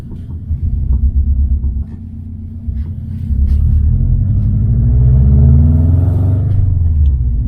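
Subaru STI engine rumbling steadily while driving in sport mode, a loud continuous low drone that swells and climbs in pitch through the second half.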